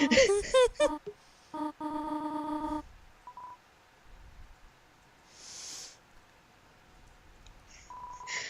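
A phone dials home in the Deltarune video game, a series of short electronic dialing tones and beeps, with brief tonal blips later over faint background noise.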